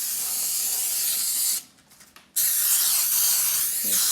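Cooking spray hissing from an aerosol can onto a baking dish, two long close sprays separated by a brief pause.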